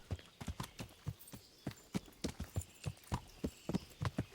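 Horse hooves clip-clop in Kingdom Come: Deliverance, a steady run of close, crisp hoofbeats in a brisk, even rhythm, clear and unaccompanied.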